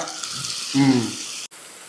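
Tomatoes go into a pan of frying squid masala and get stirred, a steady close sizzle with a brief scraping stir partway through and a short gap near the end.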